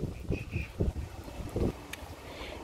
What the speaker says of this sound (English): And yes, it's very windy.